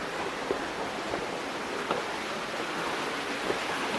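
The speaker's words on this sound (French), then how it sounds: "L'eau s'écoule" Water running in a small stream at the bottom of a Balinese rice terrace, a soft steady rushing wash with faint occasional splashes, moderately quiet with no speech.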